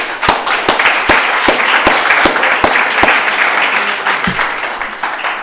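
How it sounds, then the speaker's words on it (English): Students and audience at an eighth grade assembly at a country day school clap, a sustained burst of applause with several sharp nearby claps standing out, tapering near the end. "Let's give them a round of applause."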